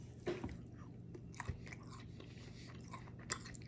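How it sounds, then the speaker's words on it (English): Close, quiet chewing and biting on garlic-seasoned shrimp from a steak, shrimp and rice plate, with soft crunches and wet squishy mouth sounds, no talking. "I'm gonna try the shrimp first."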